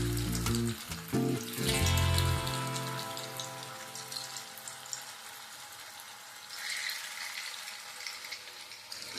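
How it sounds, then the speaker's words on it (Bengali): Chhena balls dropped into hot white oil in a kadai, a few heavy splashes and clunks up front, then a steady fine crackling sizzle that swells again toward the end. "তেল ভালোভাবে গরম হয়ে গেলে এবার বলগুলো আমি তেলের মধ্যে দিয়ে দিচ্ছি।"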